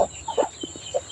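Chicken clucking nearby, a short series of soft throaty clucks and low murmurs in quick irregular succession.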